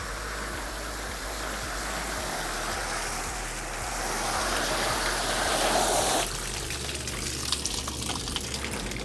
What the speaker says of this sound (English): I'm just using a garden hose right now